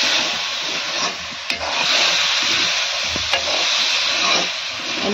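Meat frying in a pan with a dense, steady sizzle close by, broken by a few light knocks and scrapes as it is stirred; no talking.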